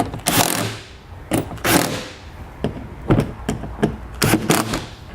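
Screws holding the lower fascia of a 2015 BMW X1 are tightened, heard as several close bursts of ratcheting clicks and sharp taps in irregular clusters, with no talk.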